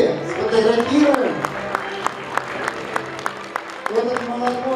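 An audience at a Go tournament award ceremony claps in a short burst, sharp scattered claps heard under a speaking voice.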